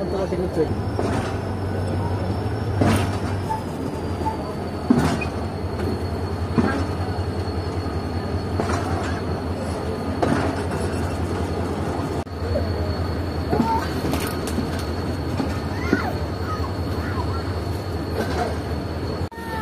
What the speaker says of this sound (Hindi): तो तकरीबन 10 मिनट रुकने के बाद ट्रेन डिपार्ट कर रही है हैदराबाद जंक्शन रेलवे स्टेशन से।